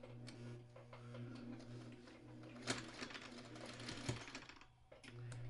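A sewing machine stitches a seam on a spool quilt block with a mitered Y-seam corner, its steady low motor hum and fast needle chatter running close and continuous, with brief pauses and small clicks.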